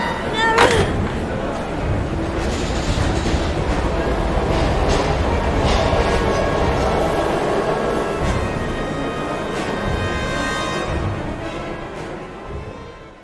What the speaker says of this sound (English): We gotta get on that train, Ethan. It's our only chance